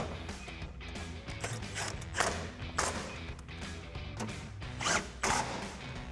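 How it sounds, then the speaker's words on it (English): A 13mm socket and ratchet tightens bolts on a 2011-2014 Mustang GT C&L axle-back exhaust, giving repeated quiet clicking and metallic taps over a steady background hum. "And now we'll take a 13mm socket to tighten down our bolts."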